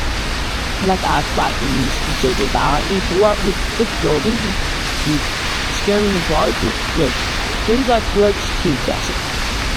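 Rain falling at an outdoor press conference, a steady hiss of rainfall under someone speaking through a microphone.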